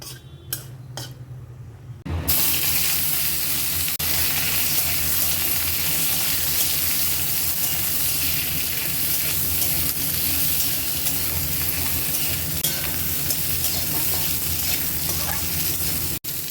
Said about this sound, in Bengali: আলু আর বেগুনটা একটু লাল করে ভাজা হয়ে গেছে